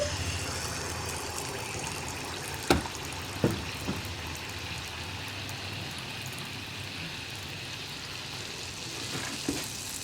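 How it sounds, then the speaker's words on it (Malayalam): Neyyappam batter frying in hot oil, a continuous close sizzle and bubbling with a few sharp clinks of a utensil against the pan, no speech. "എണ്ണ ഒന്ന് ചെറുതായിട്ട് ചൂടായി വരുമ്പോൾ നമുക്ക് അടുത്ത നെയ്യപ്പം ഒഴിച്ചു കൊടുക്കാം"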